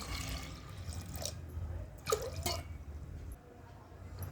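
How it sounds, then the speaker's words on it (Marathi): A glass of water poured into a pressure cooker holding toor dal gives close, intermittent splashes and drips over low background hum. "आता कुकरमध्ये तुरडाळ टाकलेली आहे आता एक ग्लास पाणी टाकू"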